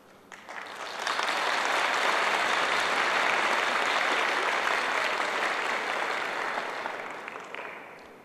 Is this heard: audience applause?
yes